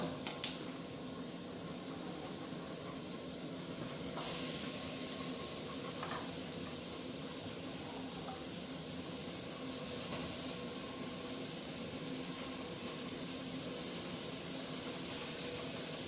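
Chopped onions and carrots sautéing in a cocotte as the base for a French rabbit gibelotte, giving a steady soft sizzle and hiss that holds throughout, with a couple of faint clinks near the start.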